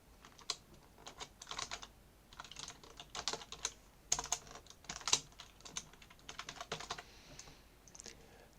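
Typing on a computer keyboard while entering C++ code, a quiet, close run of uneven keystroke clusters with short pauses between them.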